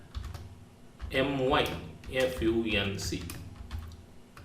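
Computer keyboard keys clatter in quick bursts as JavaScript code is typed for a button click handler, close and crisp, with a person talking over the typing.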